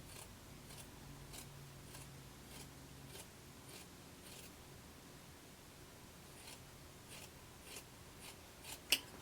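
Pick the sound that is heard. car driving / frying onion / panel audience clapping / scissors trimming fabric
scissors trimming fabric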